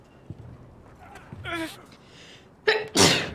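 A video game character sneezes, a sharp, loud burst near the end following a quick intake, amid horse hooves and a snort, with a brief voice earlier.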